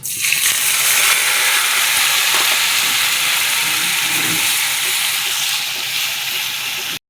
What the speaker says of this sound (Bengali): তেলের মধ্যে দিয়ে দেব আদা, পেঁয়াজ, রসুন, টমেটো বাটা